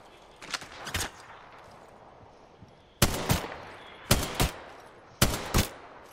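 Apex Legends gunfire cracks out in short bursts: a quick pair of shots, then three sharp doubled bursts spaced about a second apart, loud and close against a quiet background.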